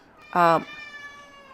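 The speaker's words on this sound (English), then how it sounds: "that was my cat." A single short, clear cat meow, close by, in an otherwise quiet room.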